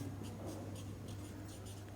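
A pen scratches across paper in short, quiet strokes with brief pauses between them while someone works out a maths problem.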